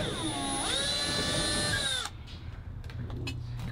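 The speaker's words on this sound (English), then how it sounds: "Drilling holes." A power drill whines steadily at close range for about two seconds, its pitch sliding down slightly, then stops, leaving faint room noise and a few light knocks.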